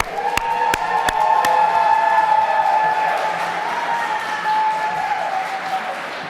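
A school crowd applauds and cheers for a poster contest winner, with sustained clapping and voices, a few sharp claps at the start, then fading slightly.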